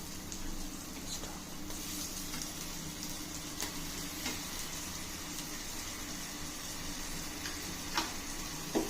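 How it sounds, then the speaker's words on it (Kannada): Mutton brain masala fries in a pan with a steady, faint sizzle, and a few soft ticks and clicks from stirring come through. "ಇದು ಗೊಜ್ಜು ಈ ಲೆವೆಲಲ್ಲಿ ಫ್ರೈ ಆಗಬೇಕು"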